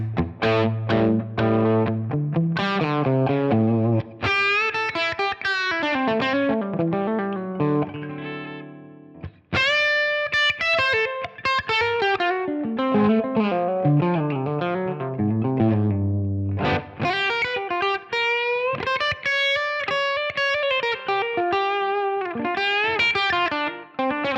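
Distorted electric guitar through an amp simulator playing a melodic riff with sustained notes and chords, loud and continuous, with a processed, effected tone.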